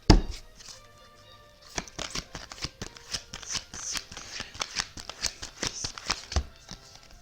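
A deck of oracle cards is shuffled by hand, making a dense run of crisp riffling slaps and flicks that starts after a short pause and continues at close range.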